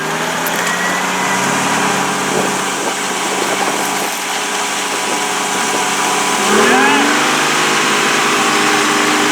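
A JDM car's engine drones and revs while mudding, loud and sustained, with a rising surge near the end, under people talking.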